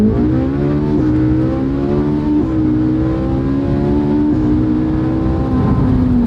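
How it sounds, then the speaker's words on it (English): A Ferrari 458 Italia's naturally aspirated V8 screams steadily at high revs, with abrupt pitch drops marking quick, hard gear shifts, loud and close throughout. "those are some violent shifts."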